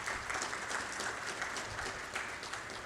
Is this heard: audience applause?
yes